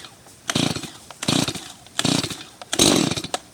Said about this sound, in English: I'm going to pull the ripcord